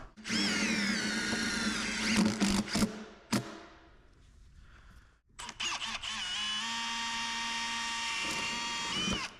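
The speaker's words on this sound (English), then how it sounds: "Now we're going to drill some holes, put some self tappers in there" A power drill whirs in two long runs drilling holes for self-tapping screws, revving with its pitch shifting, separated by a short quiet gap with a clunk.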